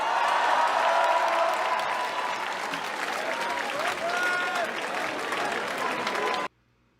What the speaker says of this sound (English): Je vous demande un tonnerre d'applaudissements pour Olivier Faure pour le Parti Socialiste.